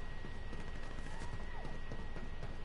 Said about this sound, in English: there's gunfire to our north